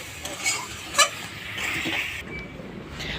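Papaya curry being stirred in a pan after ground roasted spice is added, a soft, close scraping and light sizzle with one sharper knock near the start.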